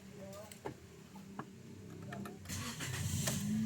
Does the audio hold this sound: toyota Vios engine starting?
yes